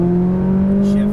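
McLaren 570S on a race track at full throttle, its engine a steady loud drone holding one pitch for about a second, with a speaking voice layered over it.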